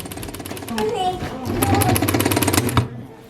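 A sewing machine whirs in rapid mechanical bursts, speeding into a fast stitching rattle before stopping, with someone talking over it.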